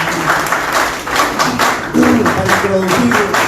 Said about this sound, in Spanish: fuertes palmas para David Ramos